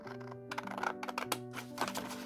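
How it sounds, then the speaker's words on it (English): Close, crisp snips and rustling as scissors cut through paper for handmade envelopes in short bursts over a faint steady hum, with nobody speaking. "I will cut with the scissors again"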